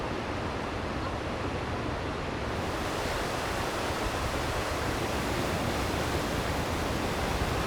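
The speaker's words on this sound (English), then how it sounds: "this is one of the most impressive waterfalls here in Yellowstone" Upper Falls in the Grand Canyon of Yellowstone, heard from the brink: a continuous, dense roar of falling water that stays loud and even throughout, broad and hissing like rushing surf, with no voices.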